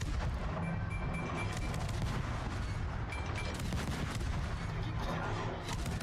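Naval gunfire in the World of Warships video game: repeated heavy booming salvos over a constant rumbling battle din, fairly distant and muffled, with no talking.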